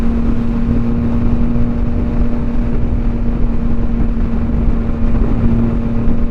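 A 2023 Yamaha XSR900 three-cylinder motorcycle rides along at a steady, loud engine drone with a strong sustained tone and continuous wind and road noise, no clear gear change standing out.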